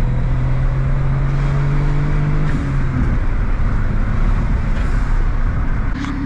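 A Suzuki Alto RSR with a twin-cam engine and all-wheel drive accelerates, a loud steady engine note heard from inside, with a gear change around the midpoint before it pulls on.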